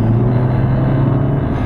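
A tuned-looking Volkswagen MK5 GTI engine under load during a boost test, giving a loud, steady, low rumble that holds throughout without any break.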